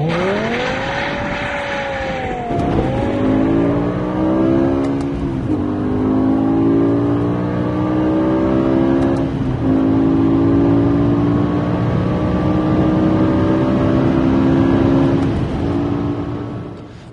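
A BMW M5 Touring accelerates hard from standstill, its engine rising through the revs in loud sweeping pulls punctuated by several gear changes, close and dominant for the whole stretch.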